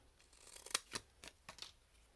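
Scissors trim a piece of cardstock into a small tile in a few quick, faint snips close by.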